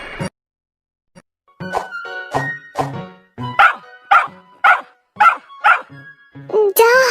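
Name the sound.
dog barking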